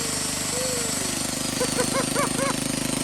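Old chicken-cage-style drill running at a vintage engine show, a steady rapid mechanical chugging and clatter close by, with some voices faintly audible underneath.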